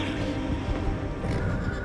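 A horse whinnies amid a dense background, with faint hoof clatter underneath; brief and moderately distant.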